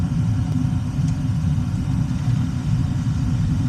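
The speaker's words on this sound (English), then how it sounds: "Our blower just energized" A furnace blower energizes with a steady low rumbling whoosh of moving air. The sound stays continuous and fairly loud throughout, with no talk over it.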